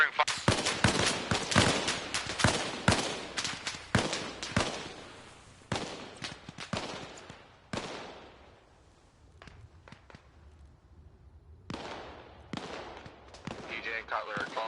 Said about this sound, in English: Spry covering fire.